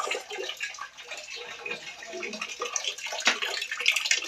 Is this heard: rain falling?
no